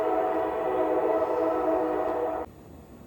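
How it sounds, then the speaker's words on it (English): A loud, sustained train horn blares close by with a steady tone for over two seconds, then cuts off abruptly and leaves faint rumbling. "there's a train coming"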